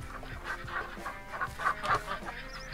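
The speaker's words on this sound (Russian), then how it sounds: "вот я слышу, кто-то крякает" Geese in the video game Farming Simulator 19 honk and cluck in short bursts across a busy, cluttered background, several calls overlapping at moderate volume.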